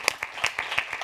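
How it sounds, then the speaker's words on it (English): A conference audience gives a brief, light round of applause for the technical team, a few scattered claps in a thin, quick burst. "A big applause for them."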